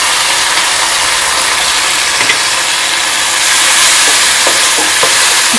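Chilli paneer being stirred in a pan with soy sauce, vinegar, chilli sauce and tomato sauce, a steady loud sizzle with scraping and stirring clatter throughout, no talking.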